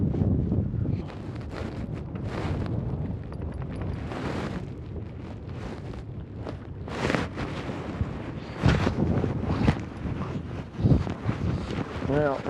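Gusty wind buffets the microphone while someone fly fishes from a boat on Lake Taneycomo in February, a loud rumbling roar rising and falling throughout, with someone talking over it.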